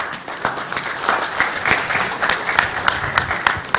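Steady applause from a crowd at a press conference, many hands clapping continuously at moderate loudness, filling the whole stretch.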